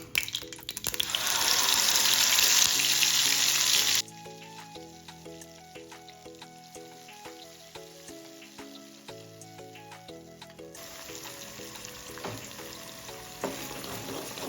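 Onion paste hits hot oil with curry leaves, starting as a loud, hissing sizzle for a few seconds, then settling into a quieter bubbling fry with scattered tapping; the louder hiss swells again near the end.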